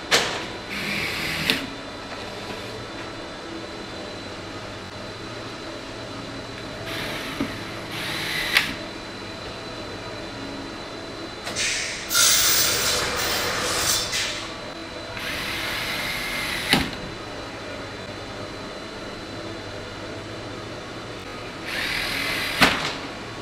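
A power drill drives screws into the planks of a planter trough, two screws per plank, in short whirring bursts of a second or two, spaced apart over a quieter background.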